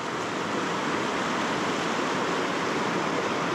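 Broken creek water on the Upper Sacramento River near Castle Crags in California rushes in a steady, full, close wash of white noise, unbroken throughout, with no voices.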